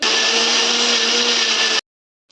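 An electric mixer grinder whirs steadily as it blends apple, banana and milk into a shake, a loud, close, continuous motor drone that stops abruptly.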